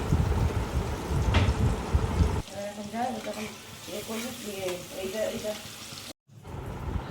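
Onions sizzle in a hot pan while being stirred, a soft crackling bed first dense then lighter with scraping, and a voice speaks over the cooking.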